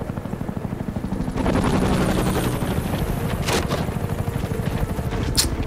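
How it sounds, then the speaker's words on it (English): A helicopter in Gears of War: Ultimate Edition thunders steadily with a loud, close, rapid rotor chop, joined by a few sharp bursts near the end. "There's a chopper."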